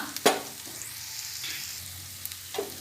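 Cabbage curry with garam masala sizzling gently in a pan, with a sharp clatter of stirring near the start and another toward the end over a low, steady frying hiss.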